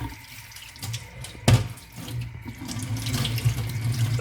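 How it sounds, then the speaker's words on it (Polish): Running tap water splashes over a removed sink drain outlet being rinsed clean, a steady close gush with a sharp louder splash partway through, no talking. "Bierzemy go pod wodę"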